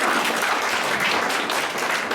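An audience at a graduation ceremony applauds with dense, sustained clapping at an even, loud level for the whole stretch.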